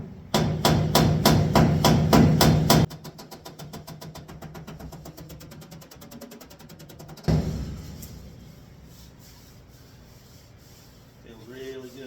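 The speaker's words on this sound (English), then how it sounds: "Just very little hammering, it'll straighten the fender." Rapid, steady metallic hammer taps straightening the sheet metal fender of a 1953 Packard, loud at first, then lighter and quicker, with a brief scraping rub toward the end.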